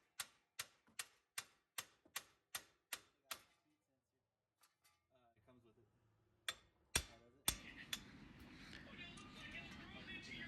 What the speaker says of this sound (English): just hitting it with a hammer should get it off